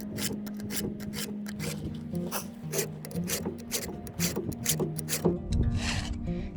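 A chainsaw chain being sharpened with a hand file and filing guide: repeated close, scraping rasp strokes in a steady back-and-forth rhythm, with a low tonal hum running underneath.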